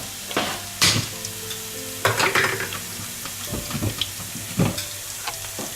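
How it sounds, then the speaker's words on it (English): Cut onions sizzling and bubbling in a hot pot for egusi soup, a steady crackle with a few louder clinks and stirring sounds close by. "I've just added some onions, the cut onions, so you can see it boiling"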